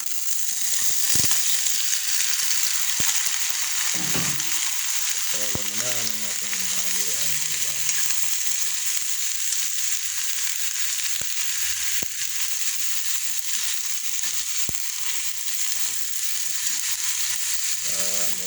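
Freshly picked sponge gourd (patola) sautés in a pan, giving a steady, close sizzle and hiss that runs throughout, broken by occasional light scrapes and knocks of stirring.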